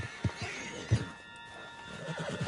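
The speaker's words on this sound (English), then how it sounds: "Put Strauss on the back of John's horse, and let's get out of here" Horse in Red Dead Redemption 2 neighing and snorting, with a couple of sharp whinny bursts and soft hoof clops against a quiet game backdrop, fairly close and moderately loud.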